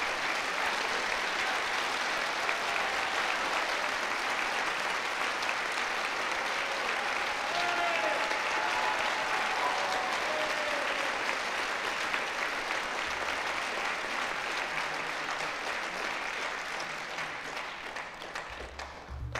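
Audience at a 2021 business school graduation ceremony gives new graduates long, steady applause, an even roar of many hands clapping that holds for most of the stretch and then begins to fade toward the end.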